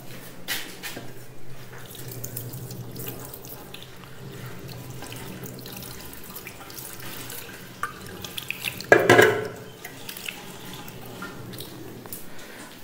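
Water runs from a tap while hands are washed during preparation for the ritual washing of a deceased person; a faint, steady flow with a brief louder splash near the end.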